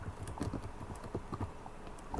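Horse hooves clip-clop steadily in the online horse-riding game Star Stable, a quick, even beat of light knocks at moderate distance, with no talk over it.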